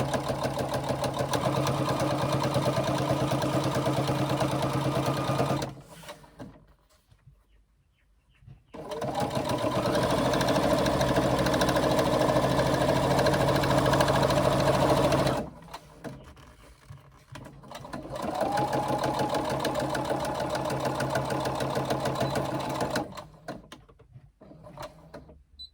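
A sewing machine runs in three long bursts, stitching vinyl fabric backpack panels together, with short quiet pauses between runs; the motor hums steadily and close up, with no talking.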